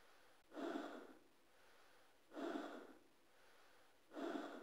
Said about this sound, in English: Enough awkward, heavy breathing noises.